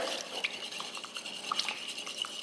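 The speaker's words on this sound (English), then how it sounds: "I'm gonna whisk this together" A whisk stirring honey into a soy sauce marinade with ginger, giving soft, steady scraping and light clinks against the bowl, quiet and close with no talking.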